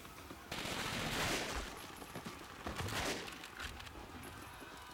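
Massed gunfire in the World War II shooter Call of Duty: Finest Hour, a dense volley of rifle and machine-gun shots in two loud bursts with a quieter crackle between, heard under faint game noise.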